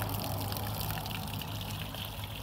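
Water trickling and dribbling inside a sailing canoe, a faint, steady, close-up splashing flow with no talk.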